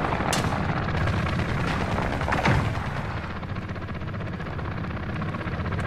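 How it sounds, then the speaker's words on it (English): An enemy chopper gunner's helicopter fires in Call of Duty: Modern Warfare. It makes a dense, continuous roar of rotor noise and rapid gunfire, loud and sustained, with no talking. "Enemy chopper gunner on approach."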